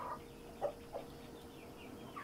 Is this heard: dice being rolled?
no